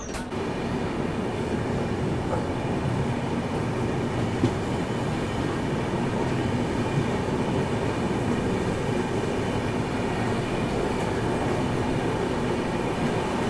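The 12211 Garib Rath Express, hauled by a WAP7 electric locomotive, pulls out of platform 3 at Muzaffarpur Junction with a steady, loud rolling rumble and clatter of coaches throughout.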